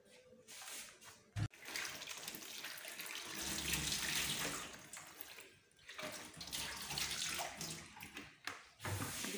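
A kitchen tap runs steadily while peeled potatoes are washed for a potato omelette, with a loud continuous hiss of water, a brief clatter, and a few short dips where the flow is interrupted. No one speaks.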